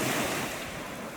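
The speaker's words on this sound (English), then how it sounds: "The waves are so loud that you can't hear my voice on this" Loud ocean surf on a Lake Superior-area beach at Grand Marais, Michigan at night, a continuous roaring wash of breaking waves with wind noise, steady and close, with no voice heard over it.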